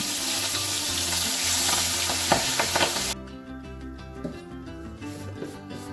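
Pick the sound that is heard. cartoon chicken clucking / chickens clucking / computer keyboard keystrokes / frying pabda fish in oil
frying pabda fish in oil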